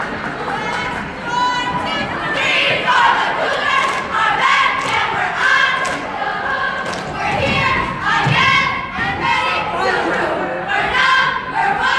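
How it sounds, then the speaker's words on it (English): A cheer team chants and yells in rhythmic bursts at an eighth-grade boys' basketball game in a gym, loud and close, with crowd chatter, thumps and some talk mixed in. "Cheer team's out too."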